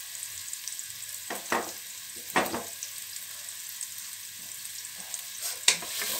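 Onion frying in a pan, a soft steady sizzle with a few louder scrapes and stirring clinks, close and fairly quiet with no talking.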